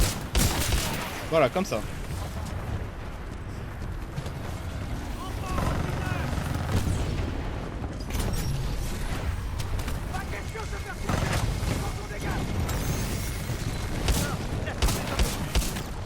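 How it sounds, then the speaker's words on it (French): Titanfall 2 gunfire cracks through a dense, loud wash of game explosions and rumble while someone talks over it. "Et voilà, ouvrez le feu."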